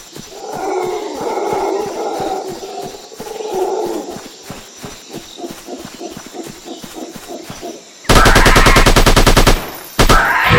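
Sniper 3D game on Android, dinosaur hunting: a rhythmic mechanical clatter runs through the first half, then a loud, dense burst of rapid gunfire blasts for over a second, pauses, and briefly resumes.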